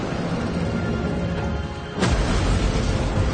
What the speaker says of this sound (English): when this huge ship capsized, a monstrous explosion erupted